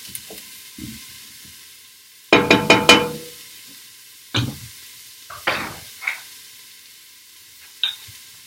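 Vegetables for chicken noodle soup sizzle in a soup pan while being stirred, with a quick burst of scraping clatter followed by scattered single scrapes and knocks over a faint sizzle.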